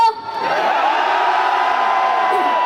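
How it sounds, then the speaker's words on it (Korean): A festival crowd at a military music festival in Inje County cheers and screams loudly in a sustained wall of voices, with whoops rising over a continuous roar. "우리 함성 한번 질러볼까요?"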